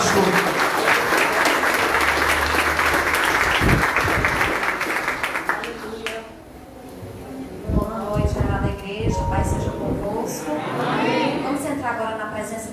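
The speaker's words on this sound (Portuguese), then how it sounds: "Aplauda Jesus e vamos receber a pastora" Sustained applause from a church congregation during an evangelical service fills the first six seconds loudly, then fades as a voice speaks and music-like tones follow.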